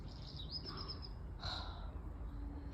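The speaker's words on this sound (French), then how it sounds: "T'entends les oiseaux?" Birds chirp outdoors in a few short calls, one around the start and a brighter burst midway, faint over a steady low background rumble with no talking.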